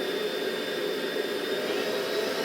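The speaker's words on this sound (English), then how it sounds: "Everything is on high, and that's blowing out pretty warm air" A steady, loud rush of warm blown air with a constant whine from a pet grooming dryer running on high without pause.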